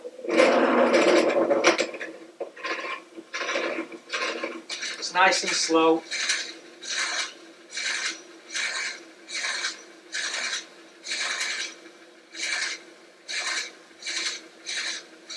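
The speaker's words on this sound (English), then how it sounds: "drilling this out now." A lathe drill bores into a palisander rosewood pen blank with a harsh rasping grind, pulsing in steady regular strokes as the bit is fed in and backed out; a voice speaks briefly near the start.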